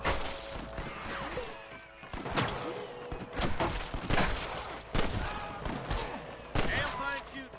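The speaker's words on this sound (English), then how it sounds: "Damn fine shooting, boys" Gunfire in Red Dead Redemption, a western shootout with sharp, loud shots in irregular bursts, near and far, over speaking voices and ambient game sound.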